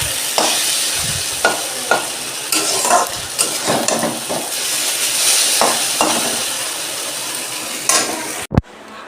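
Vegetarian chow mein with green beans stir-fried in a pan: a steady close sizzle broken by repeated scraping and clinking strokes of a utensil, with no voices.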